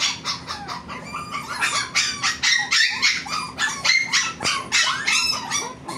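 Dogs bark repeatedly at a pet market stall selling Pomeranians, with roosters and chickens clucking and crowing in the mix, a busy, loud layered animal chorus.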